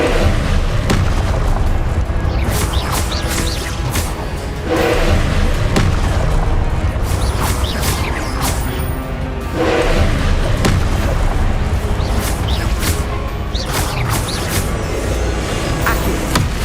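Repeated Confringo blasting spells explode in Hogwarts Legacy combat, a loud, dense barrage of booms and thuds hitting one after another without pause.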